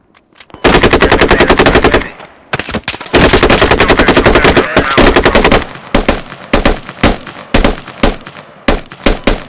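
Automatic rifle fire in the tactical shooter game Squad, loud close bursts of rapid shots in long strings, breaking into shorter volleys and single cracks toward the end.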